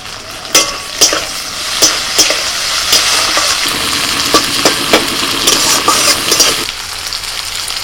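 Chopped tomatoes fry in a hot pan with a dense, continuous sizzle and periodic stirring scrapes, the hiss thickening midway then easing near the end, close and loud without voices.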